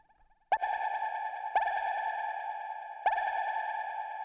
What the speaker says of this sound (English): we're gonna, of course, add effects like a reverb